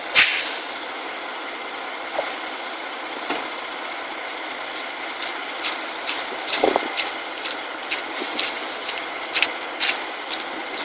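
Truck air brakes tested during a pre-trip inspection give a steady hissing release of air, with faint clicks and small bursts over a constant background hiss, heard alone without talk.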